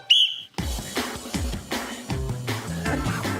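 A whistle blown to start a classroom tug-of-war rings out in a short, shrill burst at the start, followed by louder, rhythmic thumping and clattering that continue without a voice.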